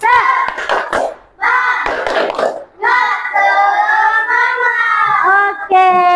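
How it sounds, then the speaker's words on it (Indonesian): Schoolchildren in a classroom run through a rhythmic clapping routine, sharp hand claps interleaved with loud unison chanted voices, close and lively for several seconds. "Coba tepuk semangat."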